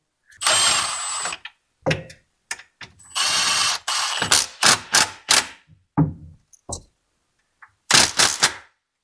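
A hand ratchet clicks in quick, repeated bursts while a tensioner pulley is fastened onto an LT1 engine in an F-Body car, with close, sharp pawl rattles separated by short pauses.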